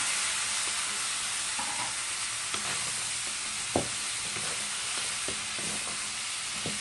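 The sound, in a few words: squash (kalabasa) added to pan, frying and sizzling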